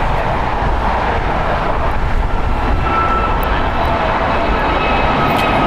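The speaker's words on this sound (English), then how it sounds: "Departing here, American Airlines Flight 2532 going to Washington. It's an Airbus A321 Neo." An American Airlines Airbus A321neo, two years old, departs LAX for Washington with a loud, steady engine roar that fills the whole stretch evenly, with no voices over it.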